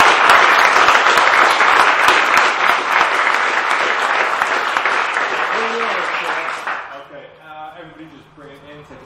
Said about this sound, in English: So give him a round of applause, please, guys.